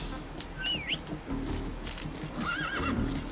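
A horse whinnies twice in shrill wavering bursts in the video game Metal Gear Solid V: The Phantom Pain, over a low rumbling background, with faint clopping and rustle underneath.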